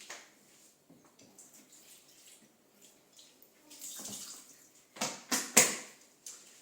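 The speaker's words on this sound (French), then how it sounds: "Je vais prendre donc mon moule, je vais le passer vite fait sous l'eau" A tart mould gets a quick rinse under a running tap, with soft trickling water at first and louder splashing bursts near the end as the mould passes through the stream.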